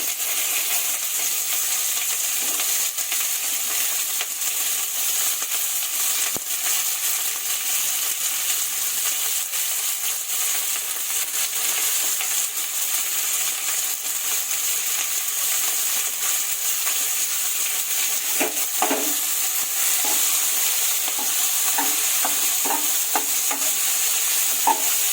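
Chopped onions sizzle in hot oil in a pot for mushroom biryani, a constant loud hiss with scattered metallic scrapes and clinks from stirring, no voices.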